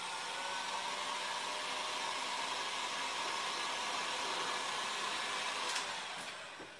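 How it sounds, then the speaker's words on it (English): Heat gun blowing hot air onto sculpting material in a cup, a steady loud whooshing roar that runs unbroken for several seconds before tapering off, heard alone. "Just going to get my little heat gun in there"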